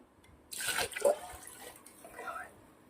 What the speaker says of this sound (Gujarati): હવે આપણે નાખીશું પાણી